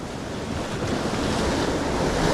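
Ocean swell surging and breaking over shallow reef rocks at night, a steady, close, broadband roar of surf with wind buffeting the microphone and no voices.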